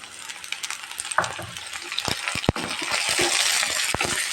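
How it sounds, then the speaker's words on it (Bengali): Vegetables fry in a pan of oil after onions have browned, a close, steady sizzle broken by scraping stirs and a few sharp knocks, with no talking. "এখন আমি সবজিটাকে একটু ভেজে নেব"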